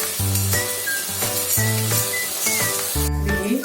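Spiced masala with finely chopped coriander sautés in a pan for udid dal, giving a soft steady sizzle and hiss beneath a rhythmic musical backing.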